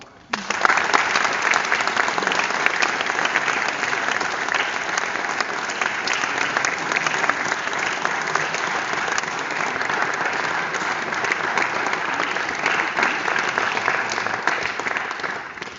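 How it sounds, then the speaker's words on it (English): Sustained applause from a crowd, steady clapping that carries on evenly for many seconds before tapering off at the end. "everyone will give them a round of applause"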